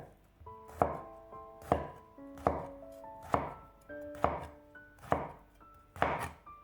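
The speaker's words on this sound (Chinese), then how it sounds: "丝瓜去皮之后，将头尾切掉，再改刀切成滚刀块" A knife chops peeled loofah (luffa gourd) into rolling-cut chunks on a board, eight crisp, evenly spaced strikes, close and distinct, with no talk.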